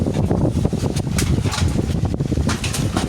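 Strong gusty wind buffets the microphone, a dense low roar with constant rumble and brief surges throughout.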